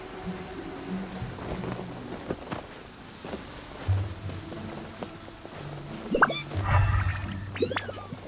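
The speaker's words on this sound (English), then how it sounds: "It's raining again? Oh, this isn't good." Steady rain falls in the Genshin Impact video game, a continuous hiss with soft low rumbles like distant thunder, set under game music and scattered effects.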